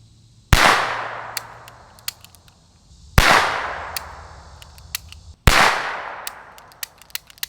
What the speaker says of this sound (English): Let's put 3 rounds down range and see what she sounds like